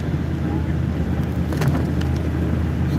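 A truck driving through a snowstorm, heard from inside as a steady engine and road rumble with wind noise throughout, loud and unchanging.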